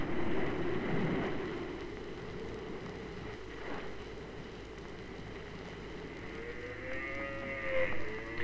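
Cattle moo loudly and repeatedly on Tristan da Cunha island over a steady windy outdoor background, with long drawn-out calls near the start and end.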